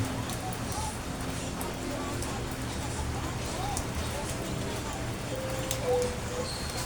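Rain falls outside a house as a soft, even hiss of patter with faint scattered drips, steady and moderately quiet throughout.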